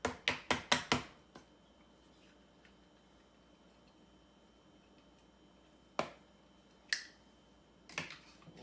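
A hard-boiled egg pressed through a wire egg slicer gives a quick run of five sharp, close clicks, then a long quiet stretch broken by three more isolated snaps.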